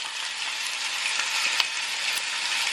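Four hamburger patties frying in a pan with olive oil, giving a steady, bright hiss of sizzling with occasional small pops and crackles, close and continuous without talk.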